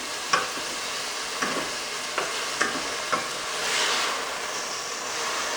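A spoon stirs melloco soup with cheese in a pot, giving five or six distinct scraping clinks at irregular intervals, then a soft swirling wash of liquid.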